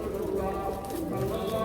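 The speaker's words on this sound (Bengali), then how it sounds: "এটা একেবারে ইন্ডিয়ান ব্লাড লাইনের কবুতর, সাইজ অনেক বড়" Large Indian-bloodline pigeons coo in a loft, soft low throaty calls overlapping in a continuous murmur close by.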